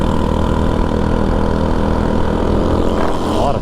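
A scooter engine straining at full throttle in first gear up a steep hill, a loud, steady, close droning hum that holds throughout with a slight rise in pitch toward the end.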